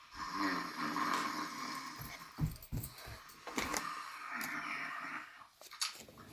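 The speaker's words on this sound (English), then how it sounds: "Soon his head began to nod, and he began to snore, and the whole house shook again." A giant ogre snores close by in a house, slow rough rasping breaths with snorting and wheezing, rising and falling in an uneven rhythm without any talking.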